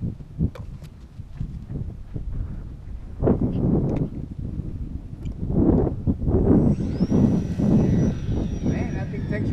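A small model airplane takes off into the wind at a flying circle, its thin engine whine rising and holding high over gusty wind rumble, with voices talking nearby.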